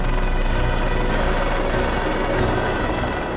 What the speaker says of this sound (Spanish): El momento en el que llegan los helicópteros